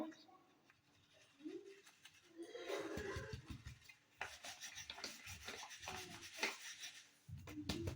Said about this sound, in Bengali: তো আমি এটাও আবার চেলে নেবো।